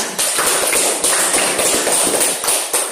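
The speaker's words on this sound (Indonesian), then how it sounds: "Sebelumnya kita berikan aplaus dulu buat kelompok 2." A class gives a round of applause after a group presentation, with dense, steady clapping from many people nearby that carries on throughout the clip.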